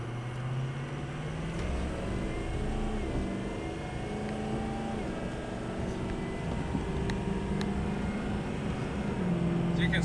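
A 2004 Ford F250 Lariat crew cab 4x4 with a Power Stroke diesel and a Banks tuner, driving and accelerating: a steady engine drone with road rumble and shifting tones, heard from inside the cab, with no talk.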